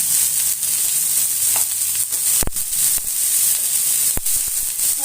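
Chopped onion and green chilli sizzle steadily in hot oil, a loud continuous hiss broken by a couple of sharp clatters from stirring.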